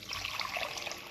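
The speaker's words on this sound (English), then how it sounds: "So I'm going to put my lukewarm water in this sugar" Lukewarm water poured onto sugar for puff-puff dough, a steady soft trickle and splash lasting about a second, close and fairly quiet with no talking.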